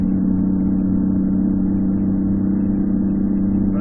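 A Peterbilt 379 truck with a tuned diesel engine of around 800 horsepower accelerates hard at high speed, a loud, dense, steady low roar holding constant and close throughout with no voices.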